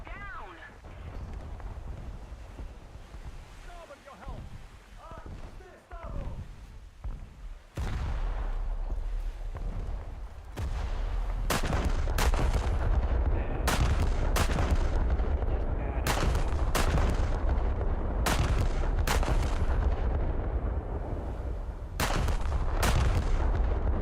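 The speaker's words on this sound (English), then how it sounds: "Someone's firing armor piercing at you, Seth." Heavy naval guns from a battleship in a naval combat video game boom repeatedly, several loud sharp blasts over a constant low rumble, with players talking in the background early on.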